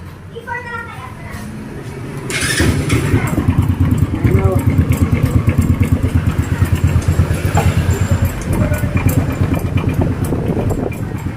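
A motorcycle engine runs roughly after an oil change, a loud uneven idle chugging steadily from close by with children's voices and talk nearby.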